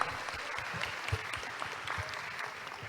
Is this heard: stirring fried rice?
no